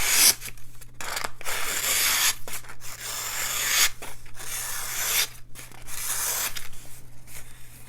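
Protech Malibu button-lock flipper knife with blue scales slicing through paper, a close, loud scraping rasp in several long strokes broken by short pauses.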